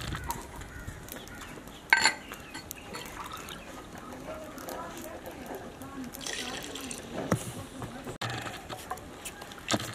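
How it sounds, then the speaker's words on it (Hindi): Water pours into a pot of frying masoor lentils with a soft splashing rush, fairly quiet, with a few clinks of utensils around it. "अब इस मौके पे पानी शामिल कर लेंगे"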